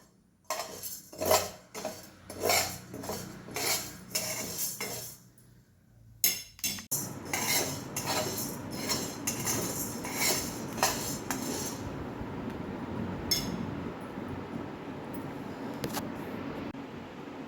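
Sago pearls are stirred and roasted in a pan, a metal spoon scraping and clinking against it in irregular close bursts, then a softer continuous rustle and scrape as stirring goes on.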